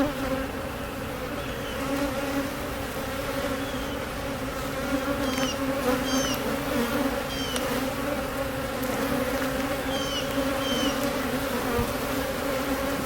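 A dense, continuous buzz of many honeybees swarming close by, steady and busy throughout, with a few brief higher whines of individual bees passing near.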